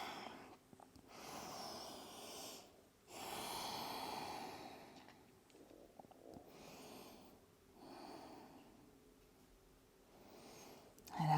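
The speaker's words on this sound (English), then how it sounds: "Exhale to fold." Slow exhalations during a forward fold in an intermediate vinyasa yoga flow, soft breathy swells of air repeating every few seconds, close and fairly quiet with no talking.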